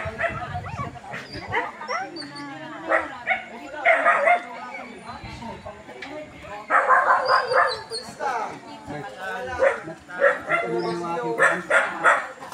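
A dog barks and yips in short bursts amid people talking nearby, the barks mixed in with the voices at moderate volume.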